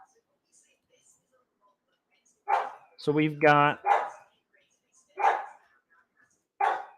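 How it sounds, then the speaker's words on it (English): A dog barks loudly in short bursts, about four times, spaced a second or so apart indoors during a livestream, with a person talking briefly between the barks. "My dog has lost his mind. He's barking."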